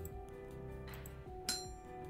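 An iron bloom in Vintage Story is struck with a hammer on an anvil to chip off slag, giving a couple of sharp metallic clinks over a steady droning game background, with no talking.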